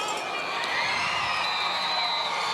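Benjamin Russell high school football crowd on the far side cheering a tying score, a sustained distant roar of shouting and whooping voices filling the stadium without a break.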